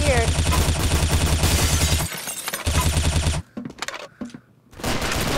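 Rapid automatic gunfire bursts in the video game Arsenal come as loud, dense volleys that stop and start, with brief quieter gaps holding sparse single shots and effects.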